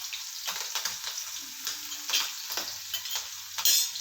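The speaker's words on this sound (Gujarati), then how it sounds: "હવે આપણે લીલા મરચાં જે એક કાપેલું છે મોડું મરચું છે એને થવા દઈશું" Cut green chili frying in hot oil with a pinch of asafoetida for a Gujarati besan (gram flour) curry, a steady soft sizzle broken by light stirring clicks and scrapes, close and fairly quiet throughout.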